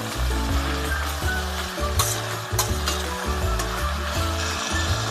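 Boiled broad beans stir-fried with onions, black gram and chana dal in a pan, a loud continuous sizzle broken by rhythmic scraping strokes of a spatula against the metal.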